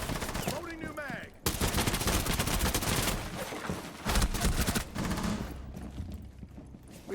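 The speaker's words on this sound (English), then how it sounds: "Loading new mag." Rapid automatic gunfire in Rainbow Six Siege rattles in long dense bursts, broken by a short mechanical clatter of a magazine reload, all loud and close.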